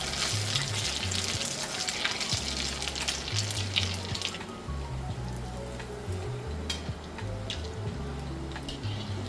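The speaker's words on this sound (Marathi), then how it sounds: "तर गोल्डन ब्राऊन होईपर्यंत चांगलं तळायचं, खूप करपवायचं नाही आहे." Bread-and-potato bomb patties deep-fry in hot oil with a steady, busy sizzle and crackle, close and continuous throughout, with a low rumbling hum underneath.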